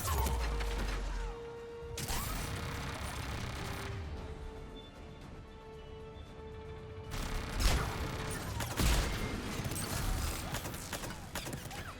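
Turret gunfire and mechanical clatter fill a Mass Effect 3 firefight, dense and loud, with crashing bursts layered over steady rattling for the whole stretch.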